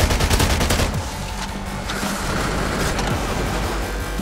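Submachine gun fire in Call of Duty: Ghosts, a rapid, loud rattle of close shots that fades into scattered pops and background rumble.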